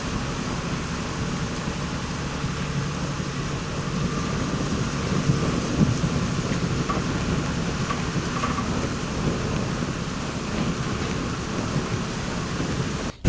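Steady rain with low rumbling thunder heard from inside an APSRTC Ultra Deluxe bus climbing a forested ghat road, a continuous broad wash of rain and engine-like rumble throughout with no talk.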